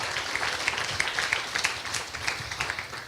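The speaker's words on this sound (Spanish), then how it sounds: "dale un aplauso" Church congregation applause during a sermon, fairly soft and somewhat distant, a steady patter of many hands with a few sharper claps standing out.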